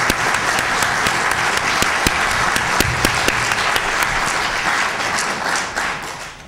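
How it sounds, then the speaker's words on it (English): Audience applause after a symposium program, dense sustained clapping from a sizable crowd with a few sharp individual claps standing out, tapering off near the end. "Let's have a round of applause for all of us."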